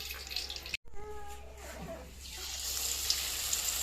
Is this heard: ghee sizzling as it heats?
yes